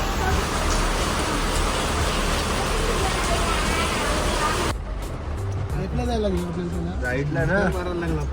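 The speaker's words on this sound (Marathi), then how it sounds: "तुम्ही पाहू शकता किती जोरदार पाऊस आला होता खूप पाऊस होता शिर्डीमध्ये यावेळीस" Heavy monsoon rain pours in Shirdi, a dense steady roar that fills the first half, then drops back beneath close voices talking over the continuing downpour and passing traffic.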